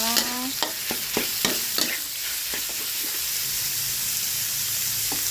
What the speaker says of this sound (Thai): ใส่หมูลงไปผัดเลยนะคะ